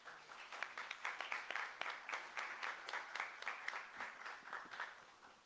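An audience at an energy-policy conference in Mexico gives a moderate burst of applause, with many distinct claps blending into a steady, rhythmic patter that holds for several seconds and then fades slightly.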